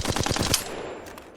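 Flatline assault rifle in the Apex Legends video game firing a rapid burst of about seven closely spaced shots that end sharply and ring out into a short decaying tail.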